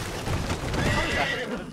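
A horse whinnies loudly and close in the video game Red Dead Online, one drawn-out neigh with hoof clatter beneath.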